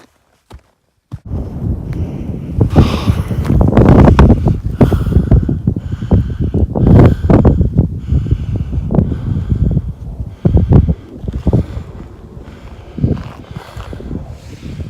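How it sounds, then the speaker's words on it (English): Strong, gusty wind buffets the microphone on the summit of Kinder Scout, rising and falling in loud roaring surges with faint footsteps or rustling beneath, no voices. "It's quite breezy up here"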